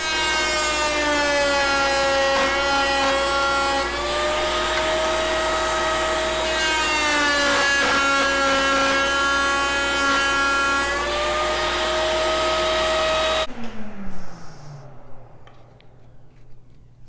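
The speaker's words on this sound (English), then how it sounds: "Okay, so we're going to make another test cut." A router fitted with a lock miter bit makes a test cut in wood, a loud steady high-pitched whine with strong tonal harmonics that dips in pitch under load, then cuts off abruptly as the motor spins down.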